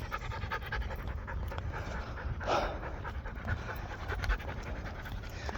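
A dog pants steadily and close by during a walk outdoors, with quick rhythmic breaths continuing throughout amid faint background noise and no talking.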